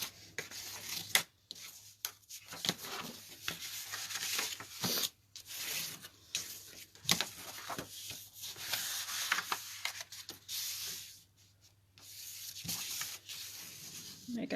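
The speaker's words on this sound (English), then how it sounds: "The first thing I'm going to do is fold and score all my score lines." Paper being folded and scored along score lines for a handmade gift bag, with close, intermittent rubbing and scraping strokes in short bursts separated by brief pauses.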